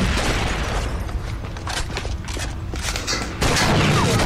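Rapid gunfire and a booming grenade blast fill a Rainbow Six Vegas 2 co-op firefight, loud and dense throughout, with a sudden heavier surge of noise near the end.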